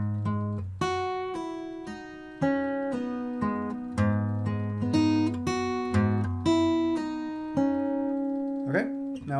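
Fingerpicked acoustic guitar playing measure 78 of a song arrangement, clear, sustained plucked notes ringing over a low bass line at a slow, steady pace, close and alone.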